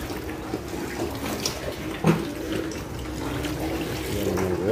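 Water running from a tap while a pig pen is washed out on a rainy day, a continuous near stream with a few brief splashes and knocks.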